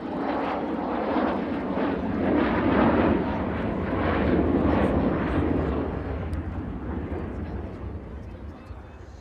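An Avro Vulcan bomber jet roars through a flying display, its broad engine rumble swelling and fading as it banks overhead, loud and continuous throughout.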